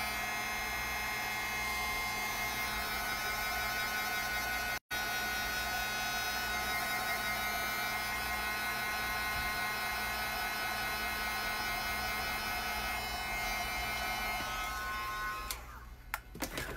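A handheld drying tool blows over ink on a gel plate, giving a steady loud electric hum and rushing air for a long stretch, briefly cutting out once before shutting off near the end.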